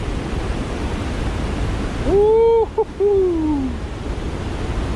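Athirappally waterfall in India roars as a steady, loud wash of noise throughout, and a person whoops briefly in the middle.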